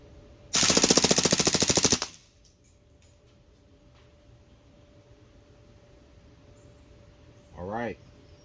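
A Crosman PFAM9B BB pistol fires one rapid full-auto burst of about a dozen sharp cracks lasting under two seconds, followed by quiet and a brief mechanical whir near the end.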